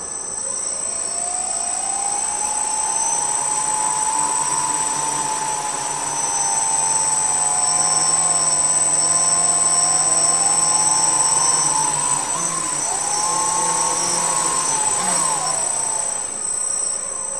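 A small quadcopter's electric motors and propellers spin up into a steady, loud whine that rises and dips in pitch over about seventeen seconds, with no voices.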